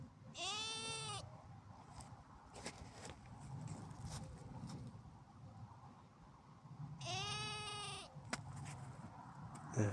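Two loud, wavering sheep bleats ring out several seconds apart over soft outdoor background noise and light rustling.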